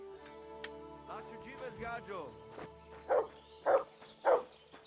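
Three loud barks from a dog in Kingdom Come Deliverance 2, evenly spaced near the end, following a stretch of speech-like voicing and steady tonal game music.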